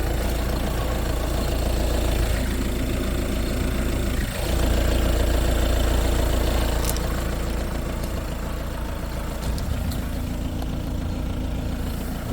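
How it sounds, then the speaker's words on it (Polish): A 2014 Audi A3 Quattro 2.0 diesel engine idles with a steady low rumble and faint rhythmic chugging, close by and continuous, with slight shifts in tone partway through. "teraz już motor, silnik taki."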